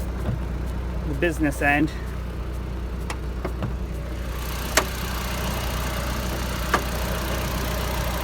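A Mk1 Audi TT with its original engine idles steadily close by, a low continuous hum, while a person speaks briefly near the start.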